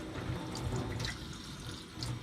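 Hot water runs from a bathroom sink tap in a continuous close splashing stream, with a few brighter spatters as it hits the basin, and nobody speaks.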